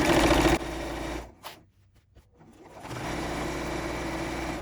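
Sewing machine stitching around a quilted fabric basket made from fabric scraps: a steady loud mechanical whir that stops for about a second and a half, then resumes running evenly, close up.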